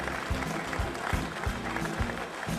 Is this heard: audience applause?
yes